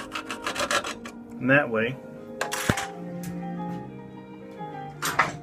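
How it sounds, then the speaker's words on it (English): A metal-cutting hacksaw blade, worked by hand, cuts a slot into a stripped allen head bolt. The short rasping strokes come in a quick rhythmic series near the start, with a few scrapes later on, and someone speaks between them. "metal cutting hacksaw blade, just by hand, I'm going to cut a slot in it"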